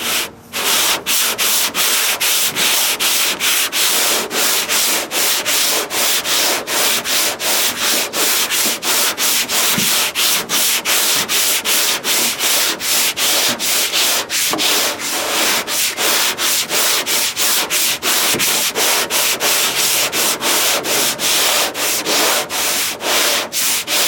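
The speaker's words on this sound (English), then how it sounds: "we're going to sand that down with 80 and see what we got" Hand sanding a Ford F100 truck body panel with 80 grit sandpaper, steady loud rasping strokes repeating in a fast even rhythm close by, with no talking.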